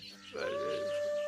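A pigeon coos once in a soft drawn-out call, rising out of quiet outdoor background, fairly close and clear with no one talking over it.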